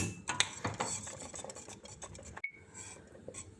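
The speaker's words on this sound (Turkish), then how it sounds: "Çikolatayı karıştırıyorum" A utensil scrapes and stirs bitter chocolate into thickened homemade cocoa pudding in a pot, producing faint, close rubbing and clinking strokes in an irregular rhythm with no voices.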